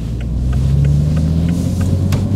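Toyota Supra with automatic rev-matching, its engine rumbling loud and steady at close range with a deep continuous drone and no break.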